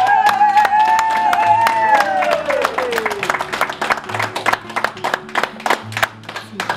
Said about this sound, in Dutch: we gaan al beginnen met een applaus voor je